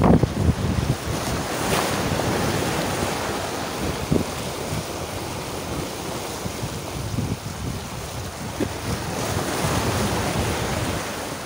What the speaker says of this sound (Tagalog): Lakas ang alon, guys.